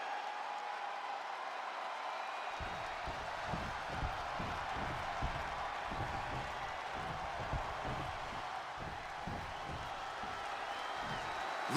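Arena crowd cheering and roaring in a WWE video game, a steady wash of noise with rhythmic clapping or stomping joining after a couple of seconds, continuous and fairly distant, with no voices standing out.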